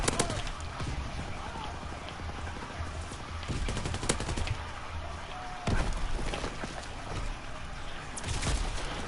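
Grease gun submachine gun fire in a WW2 video game, dense bursts of rapid shots layered with other gunfire and battle noise throughout, loud and continuous with a few sharper cracks.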